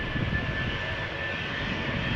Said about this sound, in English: this is Speedbird flight 2825 outbound to London Gatwick, Airbus A320